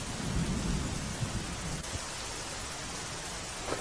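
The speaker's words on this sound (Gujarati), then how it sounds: "નવસારીમાં પણ સતત વરસી રહ્યો છે વરસાદ" Heavy monsoon rain pours down in a steady, dense wash of noise during flooding, with low rumbling underneath and no voices.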